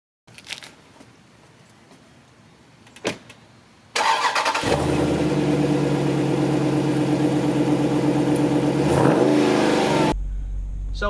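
A 2018 Dodge Durango SRT engine fires up after a few quiet seconds with faint clicks, then runs loud and steady with revving for about six seconds before settling down.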